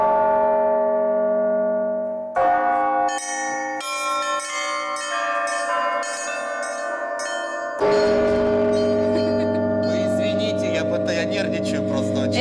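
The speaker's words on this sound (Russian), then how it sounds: "Да, это у нас праздничный благовест." Festive blagovest peal from church bells rung with a pedal, a deep resonant bell strike with long sustain, then lighter bells clanging in a rapid pattern, another heavy stroke swelling midway, close and loud.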